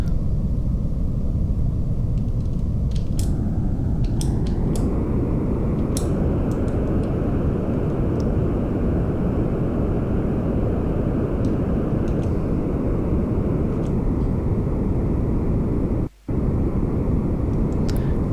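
Rocket lift-off in the game Kerbal Space Program: a steady, heavy engine roar with broad rumble that builds after a few seconds and holds loud and continuous, with faint clicks on top and one brief dropout near the end.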